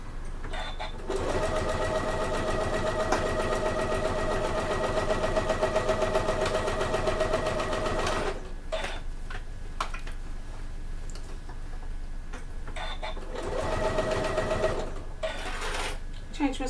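A sewing machine stitching a bag runs in steady, loud mechanical bursts, the first about seven seconds long and followed by shorter starts and stops, heard up close.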